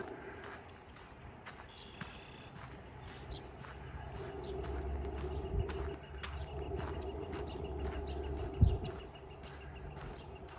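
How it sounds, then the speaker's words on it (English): Birds call from trees along a quiet city walk, repeated short chirps at a steady rhythm, faint and fairly distant over low ambient rumble and a brief thump. "The trees are alive with the sound of birdsong."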